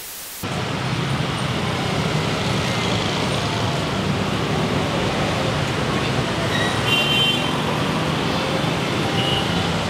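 Busy city street traffic rumbles steadily as cars, buses and trucks pass close by, a continuous dense roadway noise that starts abruptly and holds at a high level throughout with no talk.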